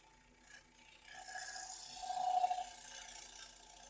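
A turning tool makes a shear cut across the edge of a spinning wooden bowl on a lathe, a soft swelling scrape and rasp that builds to a peak midway and eases off, fairly quiet and close.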